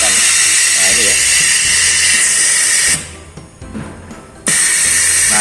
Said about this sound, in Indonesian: Jadi ketika ada bunyi untuk vakumnya dia sedot.